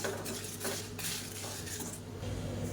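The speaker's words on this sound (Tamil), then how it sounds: "இப்போ எள்ளு நல்லா வெடிக்க ஆரம்பிக்குது." White sesame seeds roast with dried red chillies in a pan for chutney, giving a steady close crackle of small pops mixed with the scrape and clink of a stirring spoon against the metal, with no voices.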